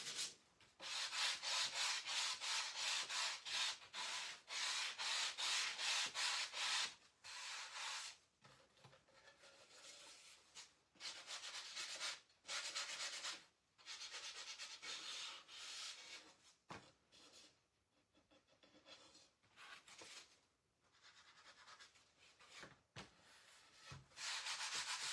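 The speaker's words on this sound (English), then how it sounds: "I am going to sand this real quick." Sandpaper rubbing over a wooden craft sign, a steady scratchy back-and-forth that is loud and close, broken by short pauses and continuing through the whole stretch with no talking.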